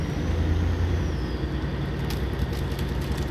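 Kenworth W990 truck engine rumbling steadily in Snowrunner, a continuous low drone at even loudness with no speech.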